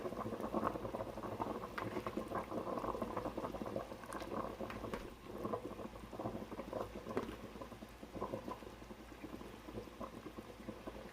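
Duck pieces simmer in a pot of boiling water with a chicken stock cube, giving a steady, soft bubbling and popping that continues evenly with no talk.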